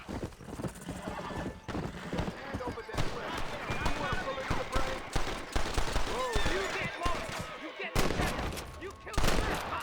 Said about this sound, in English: What the hell's shooting at who out here?